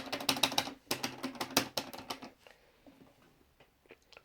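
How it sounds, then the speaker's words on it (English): Clicky microswitch buttons on a Hori Premium Vewlix Taito PS4 arcade fight stick are mashed in a fast burst of sharp, close clicks lasting about two seconds, followed by a few sparse, quieter presses. "Yeah, nice and clicky micro switches. Nice mashy buttons."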